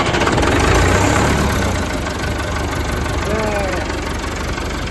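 An old engine in an outdoor yard fires up and settles into a rough, knocking idle, with a steady mid-low chug under loud wind noise and people talking nearby.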